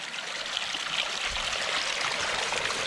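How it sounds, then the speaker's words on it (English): Water splashes and trickles steadily from the outlet of a garden water feature with a brick surround, a continuous bright rushing close by with no voices. "There is a bit of splashing, but nothing to frustrate us."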